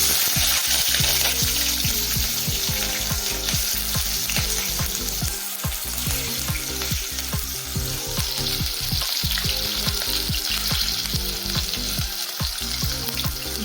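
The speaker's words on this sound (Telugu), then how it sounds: "ఇదిగోండి, ఆనియన్స్ ఇలా ఫ్రై అవుతుండగా" Onions and green chillies fry in oil in a kadai with a loud, close, continuous sizzle and crackle that stays dense and unbroken.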